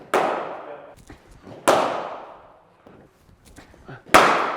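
A cricket bat strikes the ball three times during batting practice, each a sharp loud crack with a ringing decay, spaced a couple of seconds apart, with quieter knocks and movement between.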